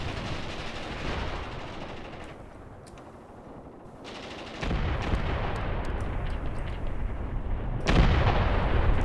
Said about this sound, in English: There are 2 light field howitzer batteries laying into this area